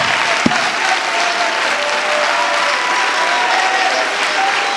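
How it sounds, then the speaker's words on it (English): A church congregation claps hands loudly and continuously during a sermon, a dense, even wash of applause filling the room with a faint sustained tone beneath it. "You better clap your hands like you're going to clap them off and tell God thank you."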